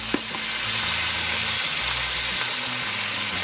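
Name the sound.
meat and vegetables sizzling in wok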